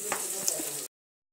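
Green chillies frying in hot oil with asafoetida and fennel seeds, a close, steady crackling sizzle with small pops that cuts off abruptly before the end.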